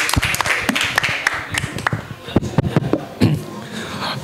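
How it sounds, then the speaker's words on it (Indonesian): Audience clapping for a guest on a live Indonesian football talk show, with scattered, uneven claps of varying loudness mixed with chatter and laughter from people nearby. "boleh tepuk tangan buat Januar Fajar."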